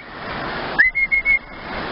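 A person gives a sharp whistle to call a dog outdoors: one rising note, then three short repeated bursts in quick rhythm, loud and close over low background hiss.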